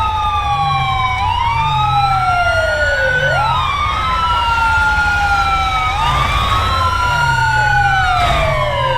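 A loud wailing fire truck siren in GTA V sweeps up and down continuously, with a low engine rumble underneath and no talking.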